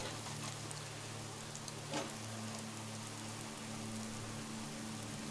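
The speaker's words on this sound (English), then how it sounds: "it seems that rain is coming in through the skylight" Steady rain falls through a skylight into an indoor room in Fallout: London, a soft continuous hiss with a low ambient hum beneath and no voices.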